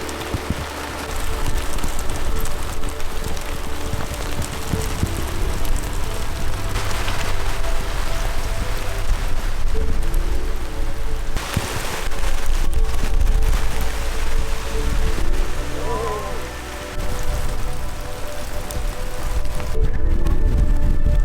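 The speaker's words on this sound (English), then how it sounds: "It is raining just a smidge, isn't it?" Steady rain falls at a coastal island campsite, a loud, dense patter on surfaces lasting throughout, with a few gusty swells and no voices.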